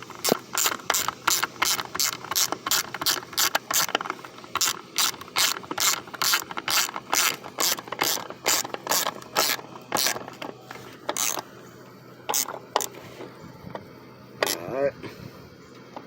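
Ratchet tightening bolts on the ignition coil of a 2007 PT Cruiser, rapid runs of sharp clicking strokes in bursts with short pauses, close and loud, with a few spoken words in between.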